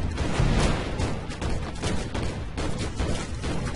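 Sentry guns firing in the tower-defence video game Deathtrap, a dense, continuous clatter of shots and booms at steady loudness throughout, with no talk over it.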